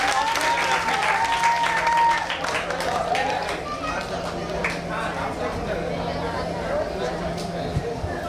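Audience applause at a live event: sustained dense clapping from a crowd, loud and continuous and gradually easing, while a voice speaks over it.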